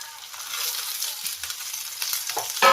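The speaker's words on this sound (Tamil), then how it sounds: "வதக்கிட்டு மல்லித்தலை வந்து சும்மா ஒரு நிமிஷம் வதங்கினா போதும்" Coriander leaves sautéed with green chillies in a pan for a banana-leaf chutney, giving a steady, close sizzle with light stirring scrapes and a louder clatter right at the end.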